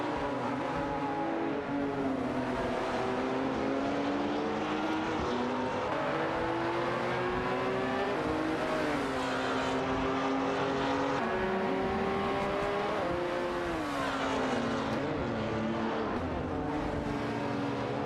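GT4 race cars, a Lotus Evora GT4 and an Aston Martin Vantage GT4, duel in a racing video game, their engines droning and revving continuously and loudly as they shift pitch through gears, with no talk.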